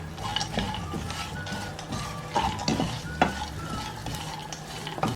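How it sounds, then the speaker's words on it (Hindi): Vermicelli roasting in a pan with desi ghee over a low flame, a soft steady sizzle under repeated scraping and stirring strokes with a few light utensil knocks against the pan. "इनको तकरीबन 4-5 मिनट रोस्ट करेंगे हल्की आंच से।"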